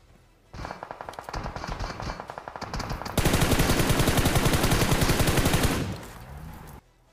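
Gunfire in a mobile battle royale game: a steady, rapid stream of automatic shots, moderately loud, with a louder, denser burst of fire from about three seconds in before it cuts off near the end.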